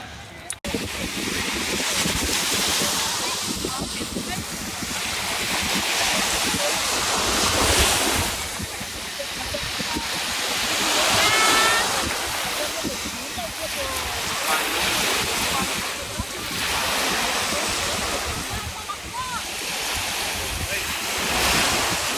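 Surf breaking on a wide, uncrowded Greek beach in 2016, a steady wash of waves rising and falling in loud swells with wind buffeting the microphone throughout; a voice speaks briefly over it.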